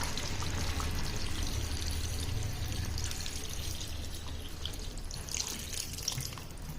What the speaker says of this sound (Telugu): ఇప్పుడు వాటర్ అనేది యాడ్ చేస్తాను